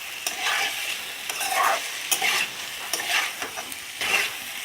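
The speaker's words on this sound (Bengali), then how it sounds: "হলুদ গুঁড়ো, এটাকে আমি ভালো করে নাড়িয়ে নেব।" Turmeric powder being stirred into raw green mango chutney in a pan, a close, steady scraping and stirring over a soft sizzle with short louder strokes throughout.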